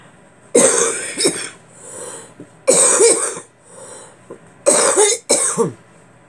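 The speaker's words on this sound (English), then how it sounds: "I'm sorry about my coughing and hacking and all." Several harsh coughs in clusters, close and loud, separated by short quiet pauses and a soft breath or throat sound between them.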